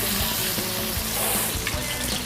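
Stuffed bitter melon pieces fry in a generous amount of oil, giving a dense, steady sizzle and hiss throughout with a faint low hum underneath and no talking.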